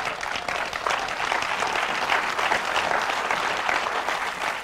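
A church congregation claps steadily through a sermon, the dense, even applause filling the room without a break.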